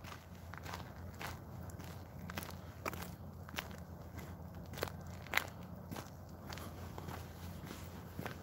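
Steady footsteps crunch along at a walking pace over a faint constant background hum, with a few sharper crackling steps, and no talking.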